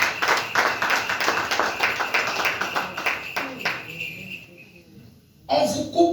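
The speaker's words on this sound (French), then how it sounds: "Si on peut acclamer pour le Seigneur" A church congregation clapping in praise of the Lord, steady rhythmic handclaps from many people over several seconds before fading, then a voice speaking briefly.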